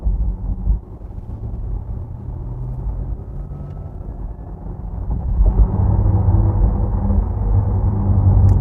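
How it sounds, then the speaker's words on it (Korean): A Porsche Taycan with its Electric Sport Sound switched on gives a synthetic, spaceship-like drive hum inside the cabin, a low droning rumble that swells louder partway through and holds steady alongside road and wind noise. "아, 이 사운드네요. 이 뭔가 우주선 같다는 이 소리가,"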